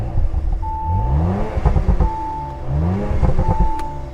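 A 2019 Audi RS5's twin-turbo 2.9-liter V6 idles and revs up twice in rising sweeps, a deep throaty rumble close by with whooshing, fluttering bursts as the revs climb.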